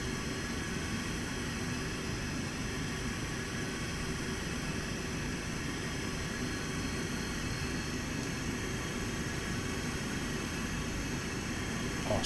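A SEPECAT/Dassault Jaguar A jet taxis in Microsoft Flight Simulator, its engines giving a steady, unbroken whining drone with a constant hiss throughout.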